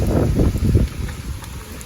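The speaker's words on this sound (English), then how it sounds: "definitely starting to get some wind" Strong wind from Hurricane Ian striking the west coast, blowing as steady, loud buffeting rumble across the microphone with heavier gusts in the first second, heard on its own.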